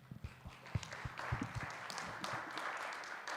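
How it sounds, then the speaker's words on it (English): Scattered audience applause at a GNU Radio conference, a thin patter of claps from a small crowd, fairly faint and irregular, with a few sharper individual claps standing out. "Let's give him one more round of applause."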